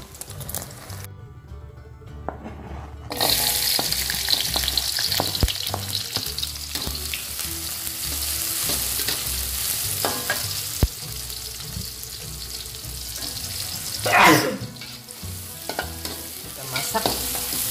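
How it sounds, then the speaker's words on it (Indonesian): A pan of jengkol vegetables being stir-fried, crackling sizzle with repeated scraping stirs, brief quiet at first then a loud steady fry and a splashy burst near the end. "Sekarang kita tinggal masak sayur jengkolnya."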